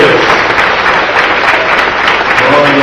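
A church congregation applauds during a sermon, giving loud, continuous clapping from many people close by that fills the room evenly and carries faint voices beneath it.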